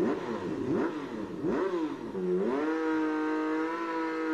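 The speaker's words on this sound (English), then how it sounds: "Let's grab my motorcycle and head there." A motorcycle engine revs in quick rising and falling pitch sweeps, then settles into a steady, even drone, clear and up close with no voices.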